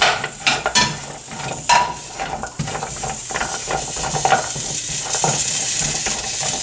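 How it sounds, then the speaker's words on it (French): Vegetables sizzle and hiss in a dry pan with no oil, with frequent clanks and scrapes of a utensil stirring against the pan, close and busy throughout. "Je vais aller griller mes légumes."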